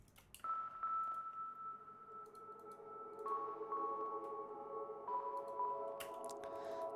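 A dry synth key patch plays a sustained tonal melody with no effects, steady held notes shifting pitch every couple of seconds over a faint low hum, with small bright clicks on top and no talking.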